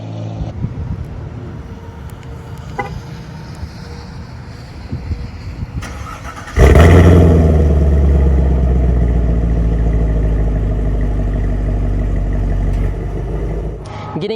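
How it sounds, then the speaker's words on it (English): A 2020 Chevrolet Camaro 2SS convertible sits quietly for several seconds, then its V8 fires with a loud sudden bark from the rear exhaust and settles into a deep, steady rumbling idle close by. "let's go ahead and get an exhaust start up."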